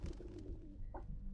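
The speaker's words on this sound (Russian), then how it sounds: "Голуби, голуби, видели?" Pigeons coo briefly in the video game Observer, giving a low, soft murmur over a steady low hum.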